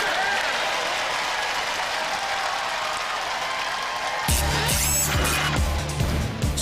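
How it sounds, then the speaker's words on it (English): Crowd applause for the roboteers at a Robot Wars arena, a continuous broad roar of clapping that swells louder in the last couple of seconds, joined by mechanical whirring and rattling. "a big round of applause."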